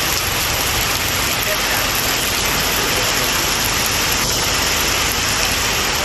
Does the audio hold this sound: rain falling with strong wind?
yes